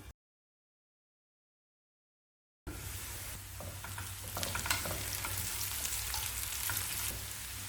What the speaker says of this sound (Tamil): வெட்டி வச்சிருக்க வாழைத்தண்டு, ஒரு 2 நிமிஷம் வதங்கட்டும்.